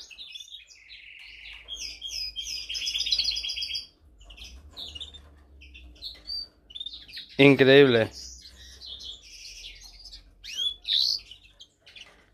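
A small bird held in the hand for ringing gives repeated high, thin chirps and tweets close up, with a person briefly speaking amid the calls.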